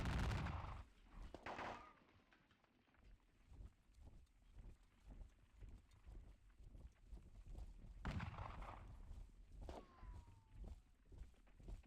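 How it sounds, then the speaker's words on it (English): Scattered musket fire from skirmishers in a Napoleonic battle game, a ragged run of faint, distant pops spread across the stretch, with heavier bursts near the start and again later. "There's some defensive fire from the skirmishers here."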